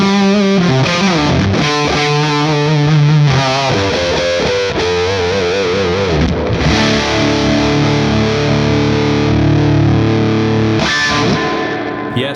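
A heavily overdriven electric guitar through a Dumble tube amp plays sustained chords and melodic lines with a warm, thick tone, loud and continuous throughout.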